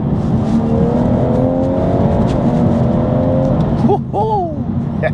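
A BMW M240i drives along the road with a steady engine drone and rising harmonic tones as it accelerates, holding loud and close throughout before a brief gear-change dip near the end.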